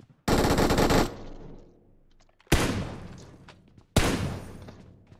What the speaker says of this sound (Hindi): क्या मारती है भाई ये गन। 990 आरपीएम पर भाई।